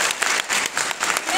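An audience at a business seminar in Artashat, Armenia, claps in a short burst of dense, steady applause filling the room.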